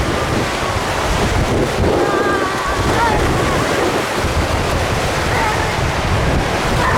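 Ocean surf washes onto a beach, a constant loud roar of breaking waves with heavy wind buffeting the microphone throughout.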